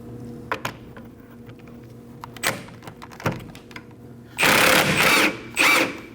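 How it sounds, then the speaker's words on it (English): A rear shock absorber bolt on a 2011-2016 Kia Optima being worked loose with a 19mm socket and wrench: scattered metallic clicks and knocks, then a loud buzzing burst of tool noise near the end. "using a 19mm socket, we're going to go ahead and remove the bolt from the other side"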